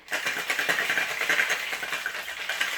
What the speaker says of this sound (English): And give that one a good shake.